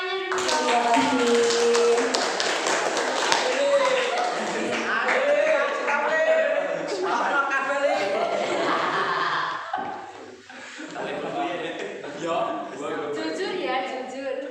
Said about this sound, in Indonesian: Oke, tepuk tangannya dulu.